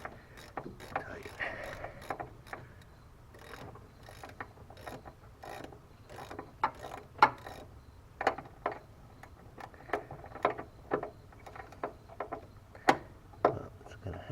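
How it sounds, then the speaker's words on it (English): A ratchet wrench clicks in quick uneven bursts while turning the harmonic balancer bolt on a 1964 Corvair during an in-car swap, close and fairly loud, with brief pauses between strokes. "it spins pretty easy with the ratchet"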